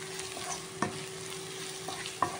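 Masala for chicken liver stirred in a pan on a low flame, a soft sizzle under a spoon scraping with a couple of sharper clinks against the pan, close and fairly quiet.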